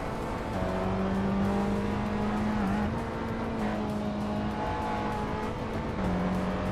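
Steady engine drone of a 2008 Volvo C30 race car at racing speed, a sustained near tone holding pitch with a brief dip midway, continuous and loud with no talk.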